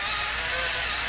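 Black pepper is cracked in a hand pepper grinder over cooking pasta: a brief, close, steady gritty grinding rasp.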